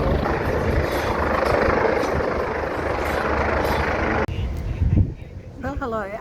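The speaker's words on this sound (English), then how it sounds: "A helicopter is hovering over the ship." A helicopter hovers over a cruise ship, its steady loud rotor and engine drone filling the first four seconds before cutting off sharply to quieter ambience with some brief noises and chirps.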